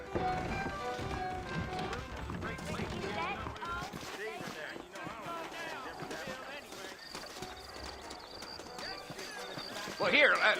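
Horses clip-clop at a steady trot through a Red Dead Redemption game scene, their hoofbeats running throughout under music and spoken dialogue, with a brief whinny near the end.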